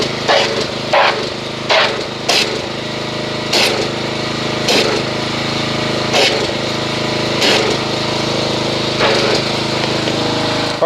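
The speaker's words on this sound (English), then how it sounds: "So I'm going to go ahead and get the pressure washer, agitate this, and see what kind of foamage we make." Pressure washer running steadily while foaming Chemical Guys Glossworkz car soap, a constant loud motor drone broken by repeated bursts of hissing spray, close by.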